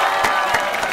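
Crowd at a freestyle rap battle in Talca cheering and clapping loudly, a steady roar of applause with whoops and shouts breaking through.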